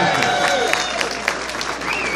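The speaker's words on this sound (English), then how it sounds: "let's give Mark a big round of applause, everyone" A crowd applauds a speaker at a Bronx Day event in Albany, a dense steady patter of clapping with a few whoops, while a voice talks over it.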